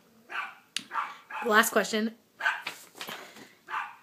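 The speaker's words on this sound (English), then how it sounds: "Sorry you can hear my dogs barking." Several dogs bark in short, sharp yaps and yips mixed among a woman's speech, moderately close, with brief bursts spread across the moment.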